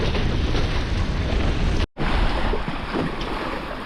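Hobie Cat FX One catamaran driving through waves in a gust near the Kornati Islands, a loud continuous rush of wind and spray with microphone buffeting and one brief dropout.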